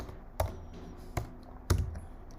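Three separate keystrokes on a computer keyboard while code is entered, each a sharp, close click with quiet pauses between.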